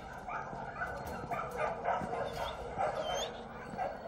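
Several dogs bark and yip at an animal shelter, giving repeated overlapping barks at moderate distance, with a voice speaking faintly underneath.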